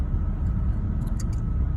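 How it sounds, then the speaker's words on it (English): Road traffic heard from inside a moving car: a steady low engine and tyre rumble fills the whole short stretch, with a few faint higher squeaks above it. "I'm in traffic right now though, so I just gotta"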